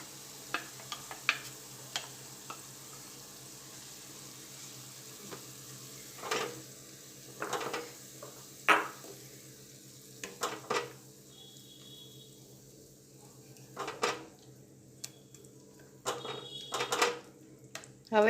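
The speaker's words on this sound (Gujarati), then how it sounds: "હવે એમાં આપણે આ જે ગ્રેવી બનાવીને રાખી છે એમાં આપણે એડ કરી દઈશું।" Prepared gravy goes into a pan of sautéed garlic for a cashew-garlic curry and is stirred, giving intermittent spoon scrapes and short sizzling bursts against a quiet kitchen background.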